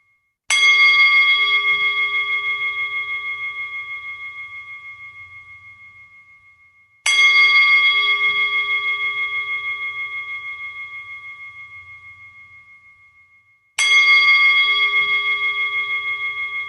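A meditation bell strikes three times at steady intervals, each ring bright and clear, then fading slowly over several seconds into long, shimmering decay. Each tone rings alone with no talking.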